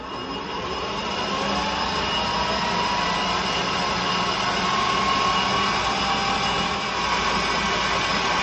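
A metal lathe spins near 1600 RPM, set up for turning a hexagon-drive chuck key, giving a steady, loud, unbroken machine whine and hum throughout with no talk.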